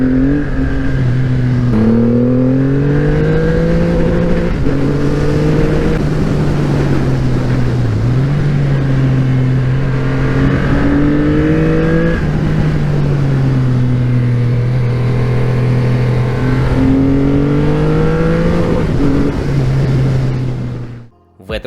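Heavy power cruiser motorcycle accelerating hard through several gear shifts, the engine note repeatedly climbing then dropping, loud and close, with a sudden cut at the end.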